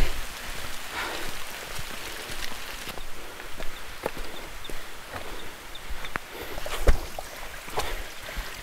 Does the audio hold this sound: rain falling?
yes